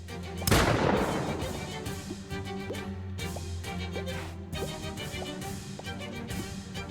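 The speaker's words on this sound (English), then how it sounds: "Shoot it with a gun." Gunshots from the video game Shadows over Loathing: a sharp blast near the start followed by lighter repeated pops over a steady layered game soundtrack.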